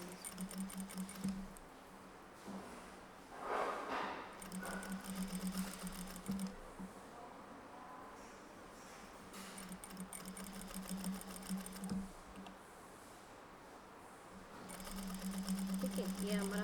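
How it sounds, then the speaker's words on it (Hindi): A sewing machine stitches bodice fabric in quick, steady bursts of needle chatter, stopping and restarting several times while someone talks over it at close range. "पूरा का पूरा आपको फ्यूजिंग के साइड में आपको सिलाई करनी है"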